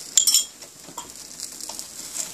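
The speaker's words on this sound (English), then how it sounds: "I'm just going to flip the side" An onion paratha is flipped on an oiled hot pan, with a quick metallic scrape and clink of a spatula near the start followed by faint sizzling and light taps.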